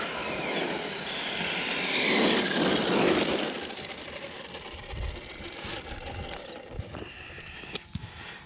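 An RC car, the Shredder, runs on a 6S battery with its tires spinning, giving a loud whirring, grinding rush that swells and then fades into sharp clicks and rattles nearby.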